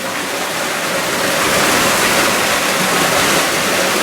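Water gushes steadily from a pump into a tank, producing a loud, close, continuous rushing splash that builds slightly and then holds even throughout.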